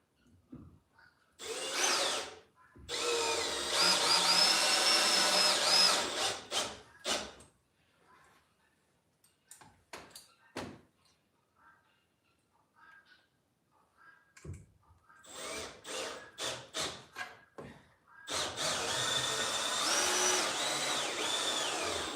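A power drill drives a couple of screws into wood in a workshop, whirring in several loud bursts with quieter pauses and handling clatter between them.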